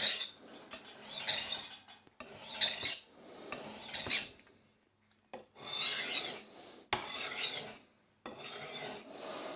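Knife blade stroked across an oiled whetstone, loud close rasping sweeps in a series of separate passes with short quiet gaps between them, and no voices.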